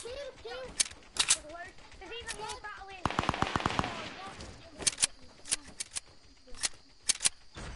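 Rapid SMG gunfire from players fighting in an online battle game, sharp bursts and single cracks at close to mid range, with a sustained volley midway, under excited talk from the players.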